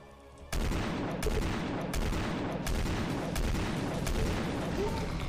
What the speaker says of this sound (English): Those are scatter grenades. Those are new.